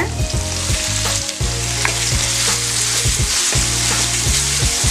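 Onions and ginger-garlic paste fry loudly in oil for egg noodles, a dense, constant close-up sizzle, with a repeating tonal melody running steadily underneath.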